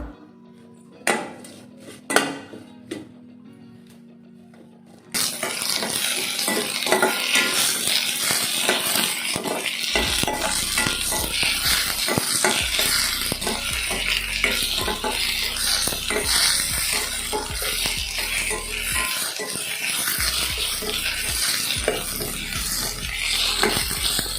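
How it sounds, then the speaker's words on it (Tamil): Tender mango leaves, cut up, sauté in oil in a pan with a steady loud sizzle and stirring scrapes, after a few quiet taps and clinks at the start. "அதிலே நம்ம இந்த மான் துளிரை வந்து நல்லா கட் பண்ணி வச்சுட்டேன். நல்லா ஒரு வதக்க வேண்டியதுதான்."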